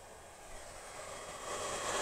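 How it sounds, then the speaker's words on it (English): The cooling fan of an old, noisy 50 amp power supply produces a steady, faint broadband whir in the background. The sound rises slightly in level over two seconds, with no speech. "I don't know if you hear that fan in the background."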